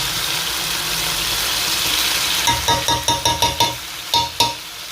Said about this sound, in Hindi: चिकन का तकरीबन 5 से 7 मिनट मैंने अच्छे से प्याज में फ्राई किया है